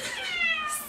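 A wet cat meows plaintively while being towel-dried right after a bath, a single drawn-out high cry up close with no talk over it.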